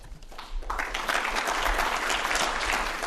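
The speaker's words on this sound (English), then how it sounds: "they deserve an applause" Applause from the audience at a social cohesion conference, steady, dense clapping that swells after a moment and holds at a full level.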